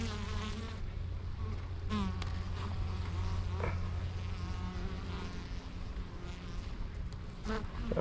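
Honeybees flying in and out of their hives, a continuous close buzzing drone with individual bees passing nearby, steady and fairly faint outdoors.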